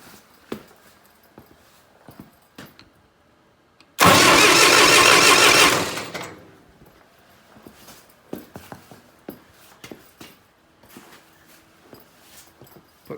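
A Farmall 504 tractor's starter cranks the engine in one loud two-second burst, set among sparse clicks and small handling knocks before and after.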